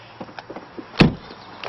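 A used car's door swings shut with a single solid, close thud that stands out against a quiet background.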